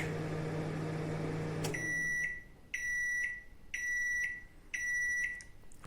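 A Samsung MG23K3515 grill microwave oven hums steadily, then stops and sounds four loud, evenly spaced beeps as it finishes.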